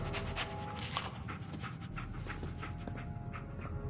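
A dog companion in the post-apocalyptic game Fallout 4 pants steadily and loudly up close for the whole stretch, a rapid rhythmic huffing over a constant low background hum, with no talking.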